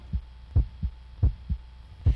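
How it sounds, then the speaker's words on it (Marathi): Heartbeat sound effect: deep, muffled thumps in paired lub-dub beats, six pulses in about two seconds at a quick, steady rhythm over a low hum. "हृदयाची धडधड वाढत होती।"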